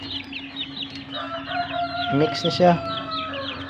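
Heritage chickens, young birds around 1.5 months including Rhode Island Reds, cluck and crow in a farm pen, with a rooster's crow rising midway while someone speaks briefly over the flock.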